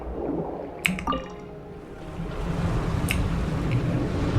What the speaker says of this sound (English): That will fill the empty middle chamber with water.